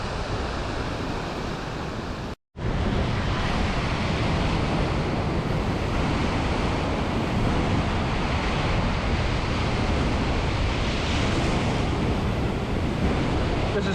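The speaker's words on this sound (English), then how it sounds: "The North Sea here is just a churning cauldron in the water." A churning North Sea surges along the rocky Scottish coast in a loud, unbroken roar of surf and wind, cut by one brief dropout near the start, then steady again to the end.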